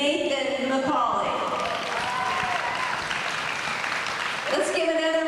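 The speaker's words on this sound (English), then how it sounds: "Let's give another round of applause for all of our seniors and their parents." Crowd applause for wrestling seniors and their parents on senior night at a high school wrestling match against Kickapoo, a sustained loud wash of clapping throughout, with a voice over a speaker at the start and end.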